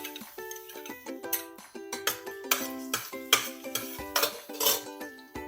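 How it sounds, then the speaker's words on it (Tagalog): Metal utensils clink and scrape against a pot while sautéing garlic, in a busy, continuous rhythm, with clattering knocks and a faint sizzle underneath. "Sa ating kaserola ay magigisa tayo ng bawang"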